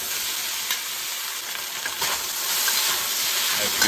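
Beef stir-fried in a wok over high heat, giving a loud, continuous close sizzle and hiss with a few sharper bursts as the pieces are tossed.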